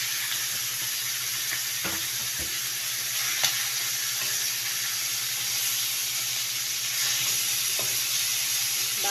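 Chicken wings for adobo sizzle and fry in a pan, browning before soy sauce goes in: a steady close hiss of oil with occasional crackles and pops, no talk.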